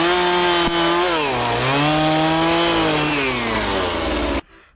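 A Husqvarna 45 chainsaw with a newly replaced ignition module runs steadily up close, its loud buzzing two-stroke drone wavering slightly in pitch for about four seconds before cutting off abruptly.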